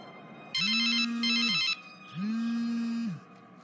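A mobile phone rings in two long bursts separated by a short pause, each a loud, steady electronic tone, alone with no one talking.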